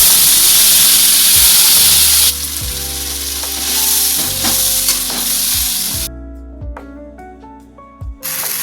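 Chilies, black cumin and tomato paste fry in hot oil for a rui fish mustard-poppy dish: a loud, steady sizzle that drops to a softer crackle, punctuated by repeated stirring knocks against the pan.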